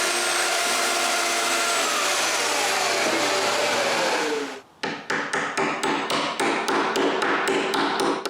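Hammering on the knockdown joinery of a wooden closed bookcase in a workshop: after a steady whirring machine sound, a rapid series of about a dozen sharp, loud knocks follows at an uneven, quickening rhythm.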